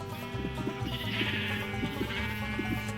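Sheep bleat repeatedly in a Minecraft-style blocky video game, several wavering cries overlapping over steady game background sound, with no talking.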